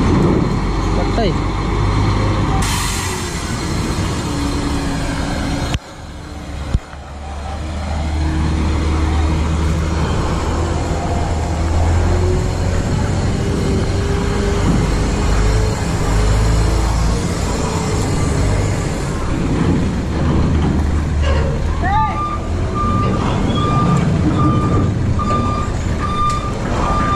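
A large truck manoeuvres out of a tight garage, its engine rumbling steadily while a reversing alarm beeps at an even pace, with voices talking over the machinery.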